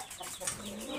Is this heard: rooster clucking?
yes